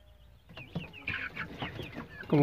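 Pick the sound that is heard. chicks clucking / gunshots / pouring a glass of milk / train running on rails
chicks clucking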